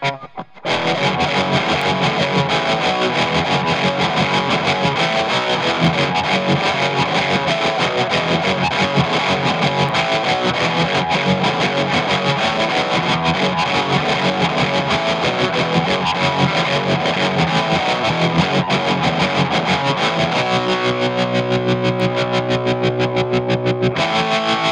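Les Paul electric guitar played through a Mooer Trelicopter tremolo pedal, giving loud, distorted chords chopped by a heavy, fast pulsing tremolo that stays even and upfront across the whole passage.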